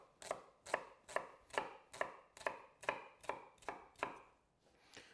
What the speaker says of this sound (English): really finely chop your red onion